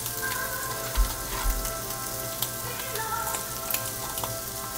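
Pork chops fry in a pan on a stovetop, giving a steady, moderate sizzle with a few brief louder pops and knocks, no voices.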